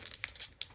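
A plastic packaging bag holding a fountain pen crinkles close up in a few short, soft bursts with a crisp texture.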